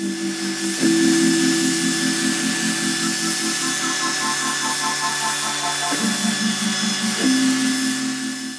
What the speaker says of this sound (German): Ich habe jetzt schon mal ein bisschen was geschliffen.